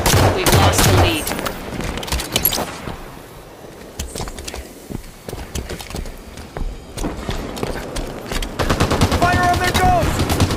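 Rapid gunfire and machine-gun bursts in the video game Halo 5 Warzone, loud rattling volleys at the start and end with scattered shots and game effects in between.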